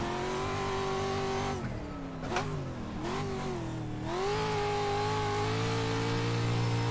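Pro 2 off-road truck engine on a dirt oval in iRacing, revving hard: a loud, continuous engine drone that dips and wavers mid-clip, then climbs steadily in pitch as the truck accelerates.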